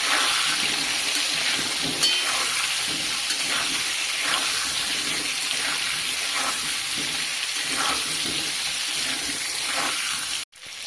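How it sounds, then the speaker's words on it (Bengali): Onions or other ingredients fry and sizzle steadily in a pan while cooking biryani, a constant close crackle with occasional stirring scrapes, with no talk. "এটাকে লাল লাল করে ভেজে তুলে নেব"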